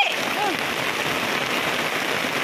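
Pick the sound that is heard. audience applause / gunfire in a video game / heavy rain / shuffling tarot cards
heavy rain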